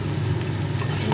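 Potatoes frying and being stirred in a pan while chow mein is cooked, giving a steady close sizzle with a low continuous rumble and no talking.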